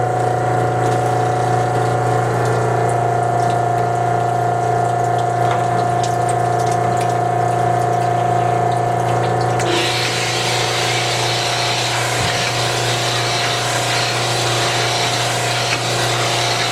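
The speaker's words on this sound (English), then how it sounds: "So we'll get the oil started and then start honing a little bit." A honing machine's oil pump running during cylinder honing on a Willys engine, a steady loud mechanical hum with a continuous liquid rush that grows brighter and gushier partway through.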